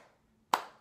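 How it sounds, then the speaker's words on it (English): A single sharp hand clap rings out close and loud after a near-silent stretch, its sound decaying briefly into the room. "clap and then variate it"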